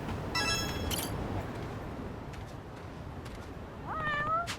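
Cats meow in the video game Lost Judgment, with one short meow near the start and a longer rising meow at the end over a steady ambient background of the game.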